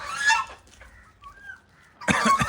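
Aseel chickens in a farmyard giving short clucks and a brief drawn-out call, close and moderate in volume, between louder noisy bursts at the start and end.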